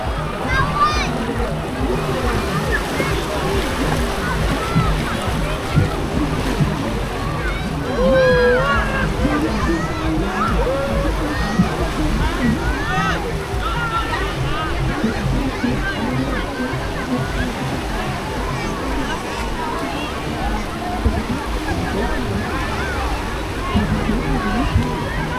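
Sea water sloshing and lapping continuously at Bãi Cháy beach in Hạ Long, Quảng Ninh, mixed with the dense murmur of a crowded swimming beach and nearby voices throughout.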